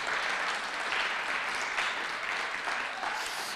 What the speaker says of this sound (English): Please give both teams a round of applause for working hard to prepare for today's debate.